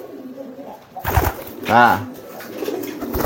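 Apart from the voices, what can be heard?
pigeons cooing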